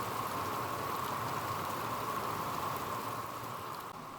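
Heavy rain pours steadily during a flood along the Sungai Pinang in Mugirejo, a dense, continuous hiss of downpour at constant loudness with no voices.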